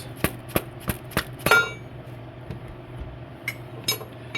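Five sharp metallic hammer whacks in quick succession knock at a cam timing tool on a Mazda 2.3 engine, followed by scattered lighter clinks and a steady low hum in a quiet garage.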